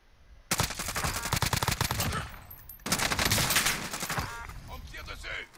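Rapid automatic gunfire in Call of Duty: Modern Warfare, two loud sustained bursts of close shots with a brief lull between them and a fading tail.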